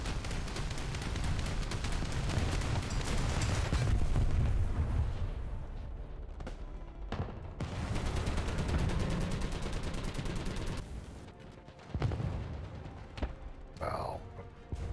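Tank cannon and machine-gun fire during a War Thunder tank battle, with loud bursts and booming shots rolling continuously through most of the stretch, dipping briefly in places before another sharp blast near the end.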